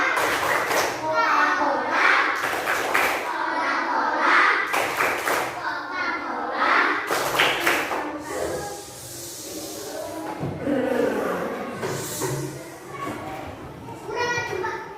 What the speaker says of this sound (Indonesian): Tepuk tunggal, tepuk ganda, tepuk tunggal, tepuk ganda, tepuk Coca-Cola.